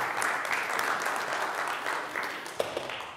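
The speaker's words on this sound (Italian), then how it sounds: "Grazie per l'applauso." Steady applause from a crowd at a press conference fills the space, dense and continuous, with a couple of sharper claps near the end.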